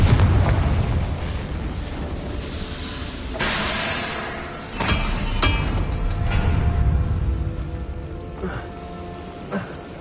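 Blasting-spell explosions in a Harry Potter–style video game, several booming bursts with hissing spray at about 3.5, 5 and 9.5 seconds over a continuous rumbling, noisy background.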